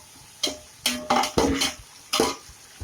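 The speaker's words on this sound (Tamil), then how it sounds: "அடி பிடிக்காமல் இருக்கிறதுக்காக நம்ம பக்கத்துலேயே இருந்து ரொம்ப கிளறி விட நல்லா நல்லா வதக்கிடணும்" Tomato masala for mutton biryani is stirred and sautéed in a pan, with a few sharp spoon scrapes and clanks against the metal at irregular intervals, close and clear.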